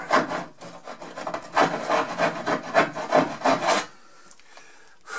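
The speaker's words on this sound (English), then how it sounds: "And I'll finish up my sawing of that" A hand saw rasps through wood in rhythmic back-and-forth strokes, close and fairly loud, before stopping into near silence.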